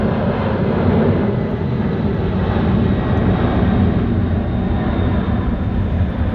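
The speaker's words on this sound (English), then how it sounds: "We got ourselves a jumbo jet taking off, turning northwest." A jumbo jet takes off nearby, its engines a loud, steady roar that fills the whole stretch without talk.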